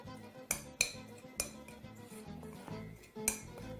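Potato wedges tossed with seasoning and olive oil in a bowl, with several sharp clinks of a utensil against the dish over a soft mixing rustle, close by with no talking.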